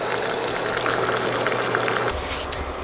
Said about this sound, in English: so now we're gonna boil some water and make a very strong coffee